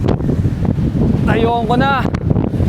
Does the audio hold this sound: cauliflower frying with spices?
no